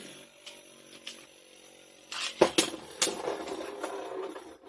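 A Beyblade launches into a stadium and battles: a quick ripping launch and a few sharp clacks, then a faint spinning whir with scattered light knocks, all fairly quiet.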